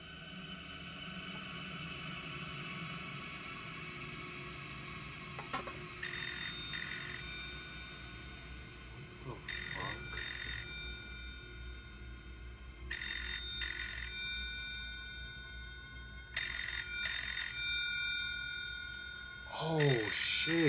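An old-style telephone rings in a horror video game, sounding as repeated high ringing bursts at a steady interval over a low ambient drone, with a person talking intermittently underneath.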